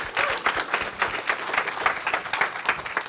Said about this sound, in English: Let's give a big round of applause to our awesome panel